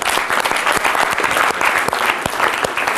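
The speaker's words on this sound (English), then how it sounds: "your teachers, give them a round of applause." A roomful of students claps loudly and continuously for their teachers at a school gathering, the dense applause holding steady without a break.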